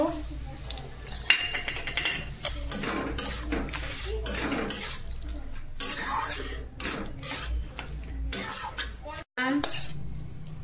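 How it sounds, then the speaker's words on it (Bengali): Poppy seed paste and okra are stirred in a pan with a utensil, giving repeated scraping and clinking against metal at a brisk, irregular rhythm, with faint sizzling and a voice talking over it. "যে পোস্তটা দিয়ে দিলাম, পোস্তটা দিয়ে একটু নেড়ে নেব।"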